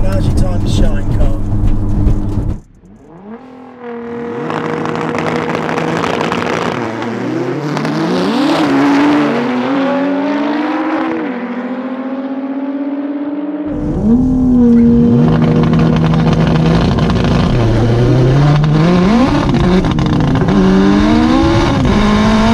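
A 700HP Porsche 911 Turbo, a 620HP DC5 Type R and a 700HP GTR, all-wheel-drive cars, drag race with loud engine roars rising through the gears, brief drops at shifts, and a renewed surge of revving, with voices talking over it.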